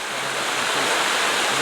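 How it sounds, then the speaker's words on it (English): The waterfall at Nant Y Ffrith roars steadily as a loud, broad, unbroken rush of falling water, heard alone and close. "Tier number 2, waterfall."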